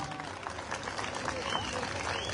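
Audience applause for the saz musicians at a concert in Sapanca, a soft wash of clapping in a venue with a voice speaking over it.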